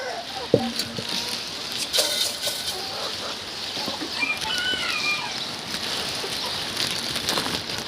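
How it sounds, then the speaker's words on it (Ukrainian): Heavy rain pours down in a steady, dense hiss around a coop of young chickens, with occasional bird calls and a voice faintly in the background. "Ого, який дощ."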